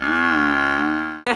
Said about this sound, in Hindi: देखो गाइस एक दो तीन गई भैंस पानी में